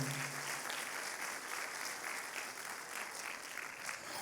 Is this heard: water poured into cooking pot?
no